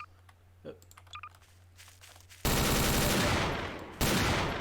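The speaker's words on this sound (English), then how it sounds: "if you right click, it just causes it to cause like so many rapid explosions" After some faint clicks and taps, a sudden loud barrage of rapid explosions from a weapon in Garry's Mod erupts, fades slightly, then a second burst cuts in.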